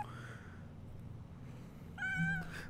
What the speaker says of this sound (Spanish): ¡Ay, qué bárbaro, gato figuroso!